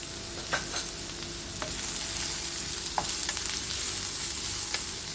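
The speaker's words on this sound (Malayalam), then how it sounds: "ഇതിലേക്ക് നമ്മൾ ചെറുതായി അരിഞ്ഞു വെച്ചിരിക്കുന്ന സവാള ഇട്ട് കൊടുക്കാം." Finely chopped onion frying in a pan, a steady sizzle with scattered scraping and tapping as it is stirred, close and alone with no talk.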